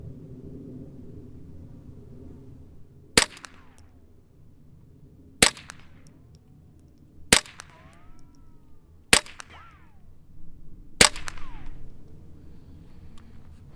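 Five sharp rifle shots from a Kidd KRG 10-22 at an outdoor range, spaced about two seconds apart, each a crisp crack over a low steady background rumble.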